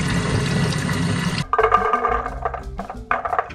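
Water pouring out of a can of chickpeas being drained, a steady splashing gush for over a second, then dripping, trickling and clattering sounds as the last liquid runs off.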